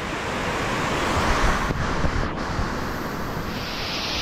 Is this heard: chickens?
no